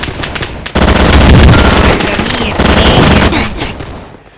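Rapid automatic gunfire in a Roblox video game, loud and dense bursts of machine-gun shots filling the whole stretch with a brief gap, a voice faintly underneath.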